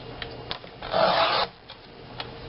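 A paper trimmer scores a line across cardstock in one scraping rasp of about half a second, close and moderately loud, with light taps and handling noises before and after.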